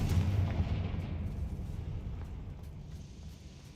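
A Confringo spell blast in the video game Hogwarts Legacy: a deep rumbling explosion that booms loudly at once and then rolls away over about four seconds, with no voices.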